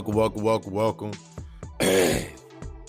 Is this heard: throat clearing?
yes